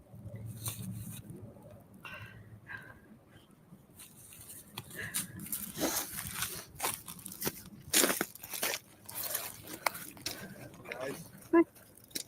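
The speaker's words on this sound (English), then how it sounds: "I couldn't hear it for the crunching of the leaves" Dry leaves crunch underfoot during an outdoor walk, irregular close crackling and rustling steps that grow louder midway, heard under ongoing conversation.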